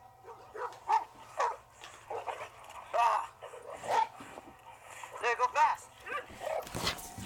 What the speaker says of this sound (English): some neighbors with aggressive dogs and no leash